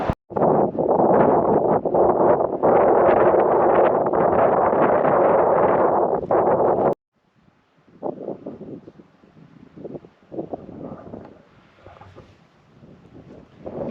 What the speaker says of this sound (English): a very strong breeze up here